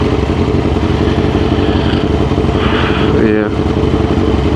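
A retro Kawasaki Ninja ZX6R sport bike is ridden in traffic, its engine a dense, throbbing rumble heard close from the rider's position and running continuously, with a brief voice near the end.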